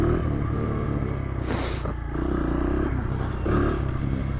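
A dirt bike engine idles with a rough, throbbing rumble, then revs up in two short bursts, the second weaker, with some clattering between them.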